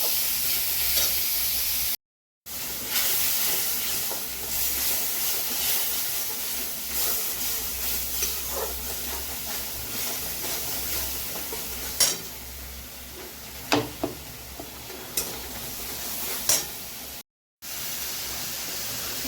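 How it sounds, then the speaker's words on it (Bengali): Steady frying sizzle and hiss of onion with cumin and garam masala fills the clip, with occasional scraping stirs and clinks of a utensil against the pan. "পেঁয়াজটা ভাজছি জিরে আর গরম মশলা দিয়ে"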